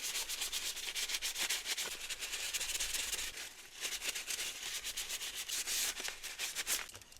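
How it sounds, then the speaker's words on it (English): An RC rock crawler chassis is wiped and cleaned by hand, close-up with soft repeated rubbing and scrubbing strokes in an uneven rhythm, fairly faint, with no voices. "I'm going to clean up my chassis."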